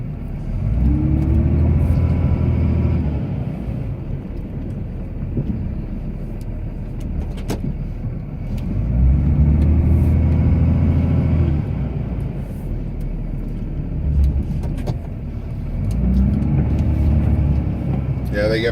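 A Cummins Ram pickup truck plowing snow in a storm, its engine droning steadily with loud swelling rises roughly every seven seconds, while people talk inside the cab throughout.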